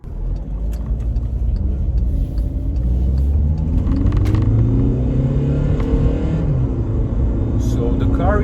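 A VW Golf 6 with a 1.6 TDI diesel engine accelerates hard from the cabin, its engine note climbing steadily as the revs build, with a continuous loud rumble throughout.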